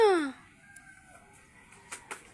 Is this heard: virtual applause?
no